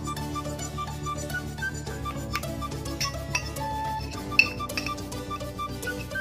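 A guava leaf face mask mixture with honey being stirred in a glass, giving soft repeated clinks of a spoon against the glass with one sharper tap, over a faint background hum.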